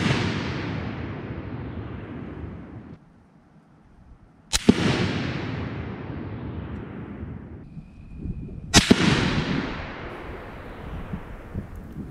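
Bolt-action rifle fired in a group outdoors, three sharp loud cracks spaced a few seconds apart, each followed by a long rumbling echo that fades slowly.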